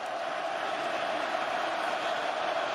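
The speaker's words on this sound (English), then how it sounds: "This jam-packed crowd will be heard from." A jam-packed college football stadium crowd at Utah vs Oregon State on a third down: a broad, sustained roar of cheering voices, even and distant-sounding, with no distinct individual calls.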